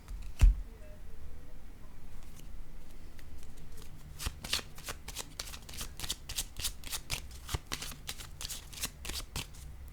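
A deck of cards is shuffled in quick riffles, then cards are laid down one after another in a series of crisp slaps, close and fairly quiet.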